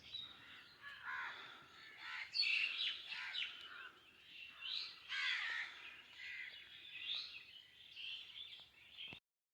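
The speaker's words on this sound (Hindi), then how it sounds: "सारे बर्ड्स, सारे पक्षी उठ चुके हैं और सुबह ही सुबह चेंचे आ रहे हैं।" Morning birds on a foggy farm calling together, crows cawing alongside chirping smaller birds, in a lively, continuous chorus of overlapping calls at moderate distance with no talking.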